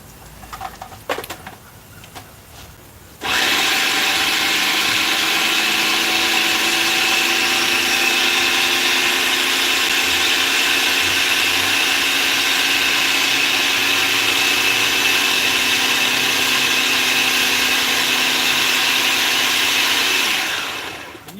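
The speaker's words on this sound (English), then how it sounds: "Over here, we'll grind our first bit." An electric grinder grinds a first batch, starting suddenly after a few quiet seconds and then whirring steadily and loudly, close by, for the rest of the time before winding down at the end.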